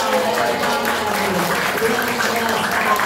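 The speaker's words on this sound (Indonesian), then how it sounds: "Lebih meriah lagi tepuk tangannya dong." A crowd at a volunteer declaration rally claps steadily, dense applause mixed with voices and cheering throughout.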